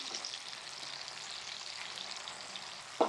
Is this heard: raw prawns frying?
yes